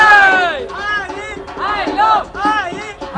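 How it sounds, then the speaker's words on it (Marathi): A crowd of devotees cheering and shouting together in celebration at the Aai Ekvira temple, loud overlapping voices rising and falling in rhythmic bursts close by. "आमचा जल्लोष तर खूपच होता ना."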